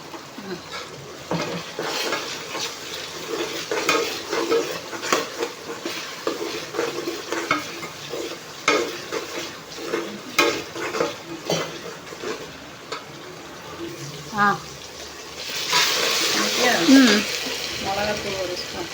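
Mint-coriander paste sizzles and sautés in a pan while being stirred for a jeera samba biryani, with steady frying hiss, scraping spoon strokes and a louder burst of sizzling near the end, under occasional talk.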